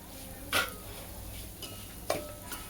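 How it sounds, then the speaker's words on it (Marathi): Semolina sautéed with cashews, almonds and raisins in a pan over a low flame, with a few quiet scraping stirs of a spoon against the pan over a soft background hum. "रवा आणि काजू बदाम मनुके वगैरे बारीक गॅसवरच परतायचे आहेत"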